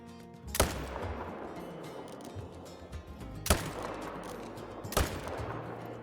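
Three sharp rifle shots from a hunting game, spaced about three seconds apart, ring out over a steady bed of outdoor ambience with faint rumbling in between.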